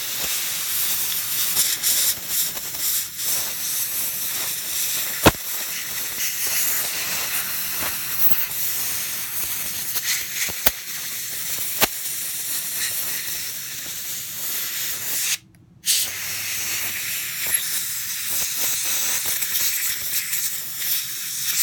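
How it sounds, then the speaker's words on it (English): Compressed air blows across the circuit board of a TYT MD-380 handheld radio being repaired, a steady close hiss with a few sharp clicks and one brief gap where the airflow stops before resuming. "I'm going to use a little bit of compressed air to try to blow it off."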